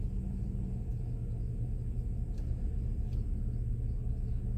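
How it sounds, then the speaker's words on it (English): Road traffic passes along a rural road, a steady low rumble of vehicles at a moderate distance that continues throughout with no voices. "There's some traffic coming."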